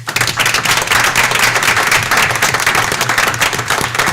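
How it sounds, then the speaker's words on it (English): At a school board meeting, the audience applauds a newly introduced high school principal with loud, close, steady clapping from many hands, sustained throughout with a faint low hum beneath. "We give him a round of applause."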